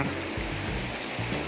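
Continuous rushing of flowing water at Saria Waterfalls, steady and close, with a few low rumbling bumps underneath.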